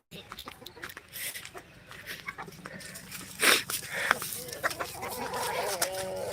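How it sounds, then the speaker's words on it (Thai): Chickens clucking outdoors in the early morning near a home vegetable garden, scattered short calls over a busy ambient background while a person talks nearby. "ไก่"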